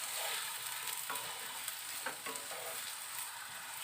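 Mashed boiled potato is stirred and fried with onion, ginger and garlic for egg chops, giving a soft, even sizzle with light scraping and tapping from the spoon, fairly quiet and with no talk.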